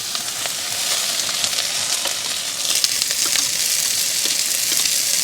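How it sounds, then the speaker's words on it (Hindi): An onion tadka fries in a pan at a jungle campsite in Uttarakhand, giving a loud, steady sizzle and crackle that carries on unbroken throughout, close by and with no talk over it. "ये लग रहा है जी प्याज का छौंका।"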